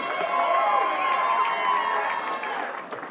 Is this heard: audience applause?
yes